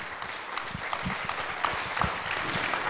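A theatre audience applauds steadily at a stage finale for a French apprenticeship presentation contest, with a dense wash of many hands clapping at moderate loudness throughout.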